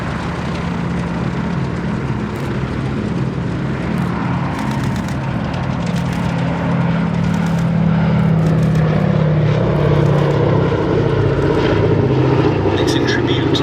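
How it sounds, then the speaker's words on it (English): A B-17 Flying Fortress, the sole airworthy one in Europe, flies past at the Battle of Britain airshow at Duxford, its piston engines a steady droning roar that swells as it nears, loud and continuous, with a crowd and commentary underneath. "tribute is paid by the sole airworthy B-17 Flying Fortress in Europe"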